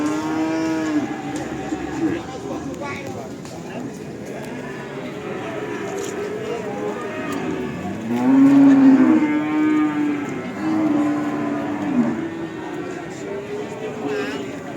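Cattle at a cow market low repeatedly, with long, drawn-out moos rising and falling, some nearer and louder than others, while people talk in the background.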